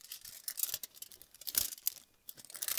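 Hair-colouring foil folded down against the hair during highlighting, giving close, dry crinkling and rustling in short irregular bursts with brief pauses.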